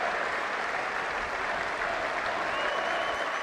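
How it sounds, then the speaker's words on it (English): A steady wash of crowd applause at Trent Bridge cricket ground fills the air as Ben Stokes walks off the field, sustained and even throughout, with no clear voices above it. "They're just holding off to give him a little bit of an ovation"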